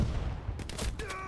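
Rapid bursts of gunfire in the game Hell Let Loose crackle in the background, several quick shots in succession, fairly faint under game ambience.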